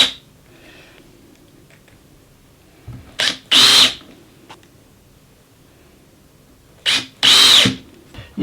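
A power drill drives small screws into a hinge in two loud bursts, each a short trigger blip followed by a longer whining run, with quiet gaps between.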